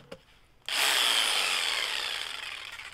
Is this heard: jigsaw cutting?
yes